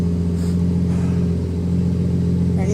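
A straight-piped Toyota MK3 Supra cruises along with a steady, droning exhaust rumble, even and sustained with no sharp revs, heard from inside the car.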